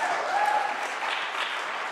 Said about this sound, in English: Let's have another round of applause for Gracie.